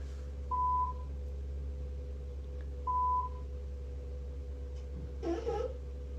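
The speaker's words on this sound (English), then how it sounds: "there's a very frequent beep" A driving simulator emits short electronic beeps, two clear pure-tone blips a couple of seconds apart over a steady low hum, followed by a brief muffled rustle near the end.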